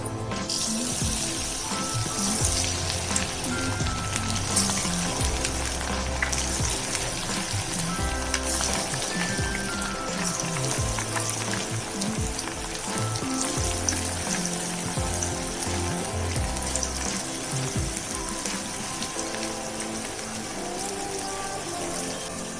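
Chicken kebab pieces frying in hot oil at medium flame, a steady dense sizzle and bubbling that runs continuously, close and even, with no talking.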